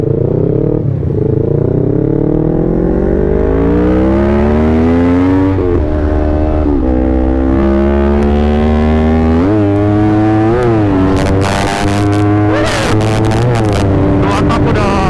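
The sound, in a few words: motorcycle engine revving at half throttle, 2-stroke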